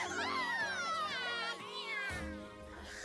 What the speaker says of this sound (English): Did I just heard a nya like a cat?